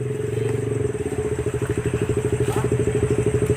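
A motorcycle engine chugs close by with a rapid, even, pulsing beat that grows slightly stronger, steady and loud for several seconds.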